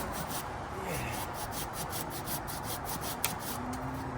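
Rhythmic back-and-forth rasping of a hand saw cutting a notch in wood to help it fall, steady strokes close by.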